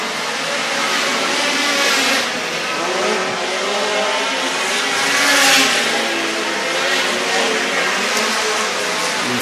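Race cars run hot laps at Screven Motor Speedway in Sylvania, Georgia, giving a steady, loud, broadband engine roar that swells and fades a little as cars pass, with no talk over it.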